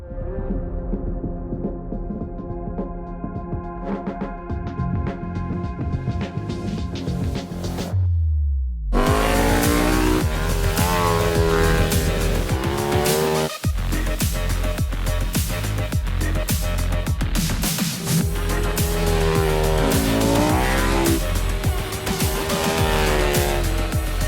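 A KTM 1290 Super Duke R motorcycle is ridden hard, its engine note rising and falling through repeated revs and gear changes, loud and close throughout with a brief cut partway through.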